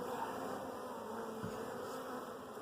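Honey bees hum steadily around a hive during queen rearing, a soft, continuous drone with no voices and no breaks.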